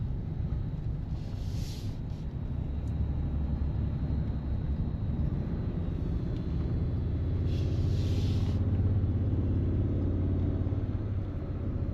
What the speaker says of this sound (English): Get out of the way of this car here.